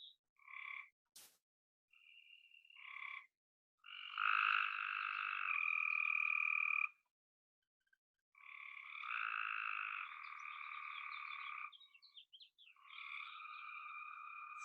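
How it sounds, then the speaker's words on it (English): Frogs croak outdoors in long, buzzing trilled calls, several overlapping choruses starting and stopping, with short chirps between, fairly close and alone with no talk. "So maybe contemplating with all these frogs singing,"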